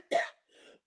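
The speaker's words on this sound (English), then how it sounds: "Don't cough. We get worried." A single sharp cough followed by a softer throat-clearing rasp, close and fairly quiet, during a studio talk show.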